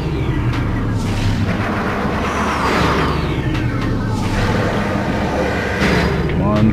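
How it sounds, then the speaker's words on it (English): Missile fire in the video game Metroid Prime: repeated launches with sweeping whooshes and booming hits over a constant layer of loud in-game rumble and effects. "Fast missile shoot trick."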